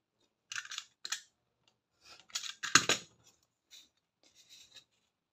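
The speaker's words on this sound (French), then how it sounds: "Et là, on va couper ce morceau-là." Scissors cut a piece of paper for a small handmade mini album in a few quiet, crisp snips, separated by short silences, close and clear.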